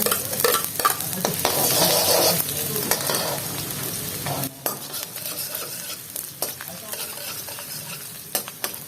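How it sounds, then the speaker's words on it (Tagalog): Garlic sautés loudly in plenty of hot oil for chicken liver and gizzard adobo, with continuous sizzling and frequent scraping of a stirring utensil against the pan, no voices. "Oh, yun yung panggigisa. Gisa na, gisa. Bawang."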